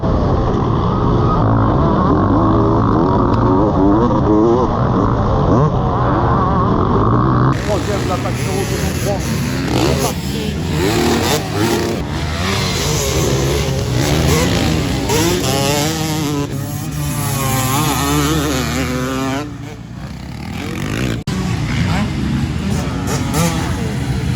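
Two-stroke motorcycles in an end-of-season race give a loud, wavering engine whine that rises and falls as the throttle works. A rider's voice talks over it almost throughout.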